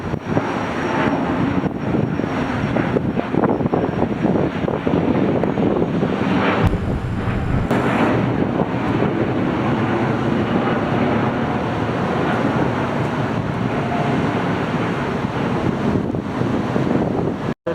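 An Airbus A330neo airliner takes off, a loud, steady broadband roar that fills the whole stretch, with wind buffeting the microphone and no voices.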